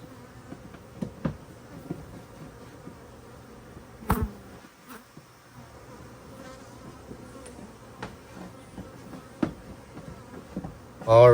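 Honeybees swarm from an opened hive during a bee rescue, a continuous close buzzing hum with scattered clicks and bumps from handling, ending in a louder knock.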